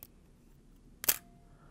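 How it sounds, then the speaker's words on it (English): A single sharp camera shutter click fired at a 1/1000 second speed, one crisp mechanical snap about a second in, set against a quiet room with nothing else happening. "So this is how the shutter works."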